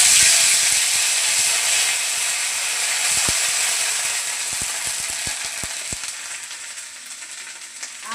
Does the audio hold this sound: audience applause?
no